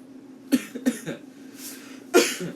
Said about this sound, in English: I apologize for the cough yet again.